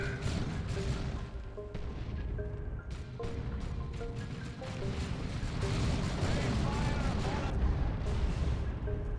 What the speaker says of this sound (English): This one's a creeping barrage.